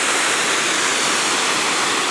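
A creek runs right beside a walking track up Whistlepipe Gully, giving a steady, loud, even rush of flowing water with no voices.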